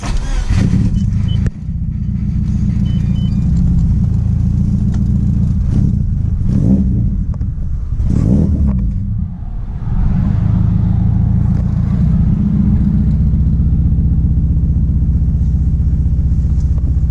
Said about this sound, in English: This thing has a full Grady exhaust on it.